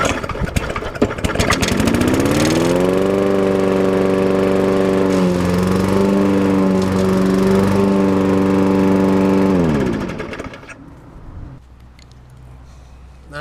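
A primed lawn mower engine sputters, catches and runs at a steady loud chugging drone for several seconds before cutting out and falling quiet.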